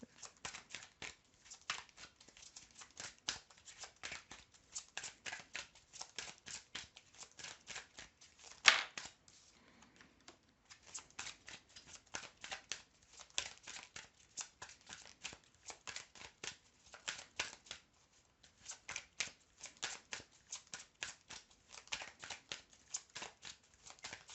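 Tarot cards are shuffled continuously in long runs of close, crisp riffling clicks with short pauses, fairly faint throughout.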